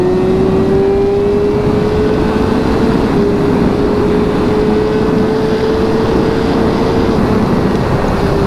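A motorcycle engine revving hard on its first ride of the season, a loud continuous drone with a slowly rising pitch and steady wind rush, no voices.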